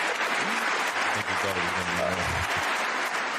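An audience applauds continuously and loudly at a James Beard talk, a dense clatter of clapping with a voice speaking briefly over it.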